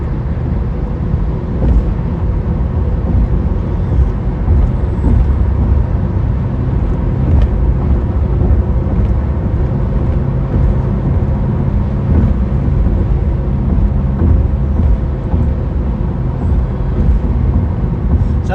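A car rolls over a badly broken, bumpy road, its steady low rumble and road noise interrupted by irregular thumps and jolts that at times fall into a galloping rhythm, loud and continuous throughout.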